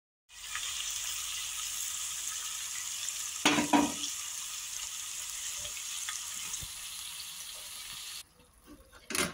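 Ground coconut paste with green chili, fennel and garlic being stirred into cooked vegetables for aviyal, a steady low sizzle with a brief scrape in the middle, then a sudden drop to near quiet.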